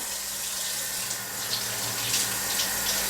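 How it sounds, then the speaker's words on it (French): Salted aubergine pieces rinsed under a running kitchen tap, a steady near rush of water splashing into the sink with faint spatter on top, continuous throughout and no talking. "Vous les passez sous l'eau pour bien chasser tout le sel qu'il y a."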